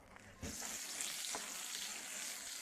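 Food stir-frying hard in a pot over a wood fire, a steady loud sizzle that starts abruptly and runs on, with a few scraping stirs of the spatula and no talking.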